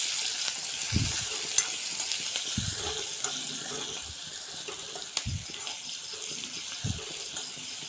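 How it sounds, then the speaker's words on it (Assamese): Onion and green chilli sizzling in a pan for a home-cooked pasta dish, a steady hiss of frying broken by several soft low thumps and scrapes of a spoon stirring, with no talking. "এতিয়া ধুনীয়াকৈ পিঁয়াজ জলকীয়া দি দিম পিঁয়াজ জলকীয়া দি দিলোঁ"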